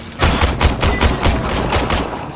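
A pistol fires rapidly in the video game Warframe, with a fast, even string of about a dozen loud, close shots.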